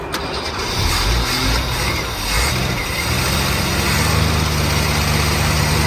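Holden VC Commodore engine, freshly rescued from a wrecking yard, runs steadily up close with a loud, constant rumbling drone and slight shifts in pitch as it settles.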